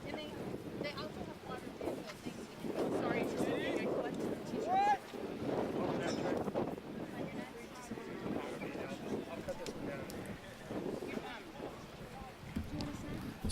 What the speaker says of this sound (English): As you can hear in the background, very windy here in Irving,